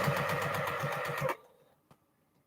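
A sewing machine runs a seam in a quick, rhythmic burst of close stitching that stops abruptly, followed by a faint click in the quiet.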